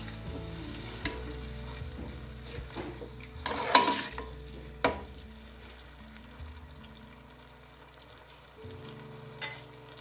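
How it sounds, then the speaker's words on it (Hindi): Tomatoes cooking with ginger, garlic and a little added water in a pan for matar aloo give a soft, steady sizzle, with a few light stirring clinks and scrapes throughout. "अब मैं यहाँ पानी डाल रही हूँ टमाटर मेल्ट होने के लिए।"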